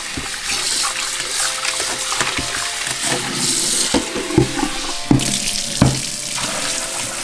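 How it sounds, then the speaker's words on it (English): Running water gushes steadily into a pot as cut meat is rinsed for green chili tamales, with occasional knocks and clunks of the meat and pot under the continuous splashing flow. "We're just gonna give it a quick rinse."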